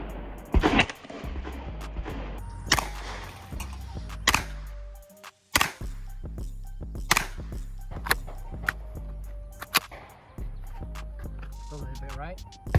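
Sharp shots from a Keltec Sub2000 Gen 1 carbine in .40 S&W fired at targets 10 to 15 yards away, a dozen or so irregular loud reports with short gaps, with people talking between them.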